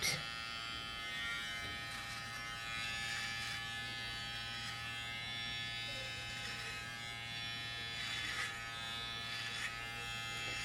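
Electric hair clippers set to a 0.7 mm guard cut the top half of one side during a high fade, giving a continuous, even buzz close by, with a steady hum and no talking.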